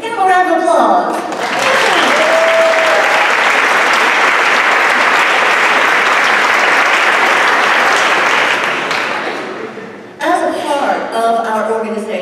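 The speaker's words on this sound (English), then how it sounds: "Give them a round of applause." An audience at a district Lions-style opening ceremony and flag parade breaks into loud, sustained applause lasting about eight seconds, with a voice speaking through a PA before and after it.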